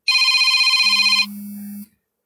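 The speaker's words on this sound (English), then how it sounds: "Sorry about the phone ringing," A phone gives a brief electronic ring, a bright warbling trill followed by a lower steady tone, loud and close, lasting under two seconds.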